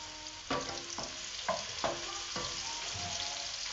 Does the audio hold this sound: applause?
no